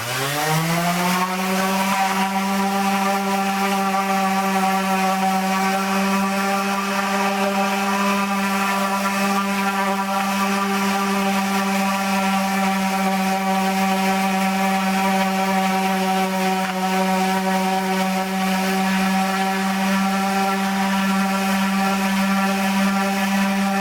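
Sanding a poplar wood patch on a Telecaster guitar body with a power sander, a loud, steady motor drone that holds for the whole stretch without pause, close up, with no talking.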